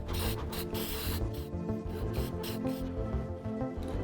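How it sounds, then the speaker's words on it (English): A cheap dollar spray paint can sprays in short bursts, hissing on and off close up with brief gaps between bursts and rattling mechanical noise underneath. "Just got this dollar spray paint."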